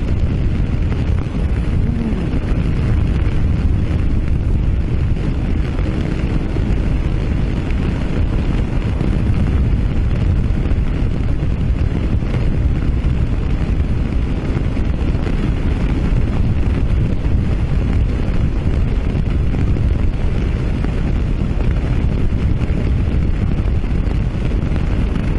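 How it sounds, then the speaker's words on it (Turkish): Strong, steady wind roars and buffets across the microphone while riding a Mondial Rx3i Evo motorcycle between Fethiye and Dalaman, a dense low rumble with no pauses. "Nasıl rüzgar var?"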